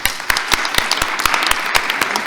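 Applause at a board reorganization meeting: a modest group claps with distinct, uneven sharp hand strikes standing out over a softer bed of clapping.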